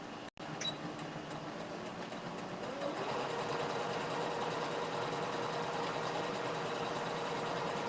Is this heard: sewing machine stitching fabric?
yes